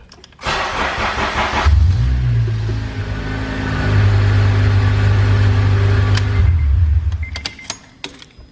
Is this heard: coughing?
no